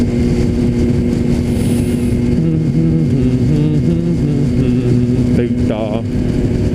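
A motorcycle engine running loud and close, holding a steady droning hum with slight pitch shifts as it rides, while someone talks over it.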